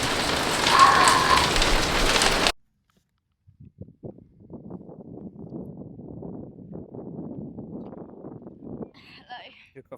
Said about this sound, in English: Look at the size of these hailstones.